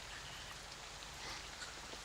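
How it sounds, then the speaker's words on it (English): Steady rain falls as soft, even hissing ambience for a tabletop role-playing game, faint and continuous with no distinct drops standing out and no talking. "The rain is still coming down"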